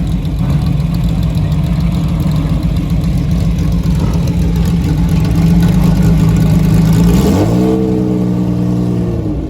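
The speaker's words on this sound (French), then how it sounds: "Vous voyez les pots d'échappement qui sont sur le côté là, échappement libre." A Ferrari Daytona Group 4 rally car with free-flowing side exhausts idles loudly up close, a deep sustained rumble, then revs sharply once near the end before settling.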